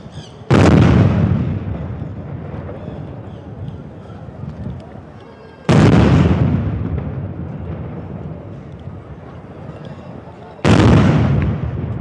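Ceremonial cannon salute shots for the commander of the Brazilian Army, three loud booming blasts spaced about five seconds apart, each followed by a long rolling echo outdoors.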